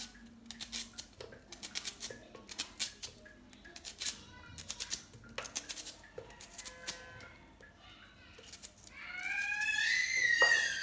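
Knife chopping onions on a board for a low-budget egusi soup, a rapid run of crisp close cuts that falls quiet before a longer scraping, sizzling passage near the end.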